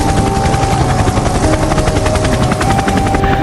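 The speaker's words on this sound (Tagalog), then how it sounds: "Buti na lang binilan ako ni Dad ng private helicopter." A private helicopter flying close overhead, loud rapid rotor chop pulsing steadily throughout under heavy rain, with no talk.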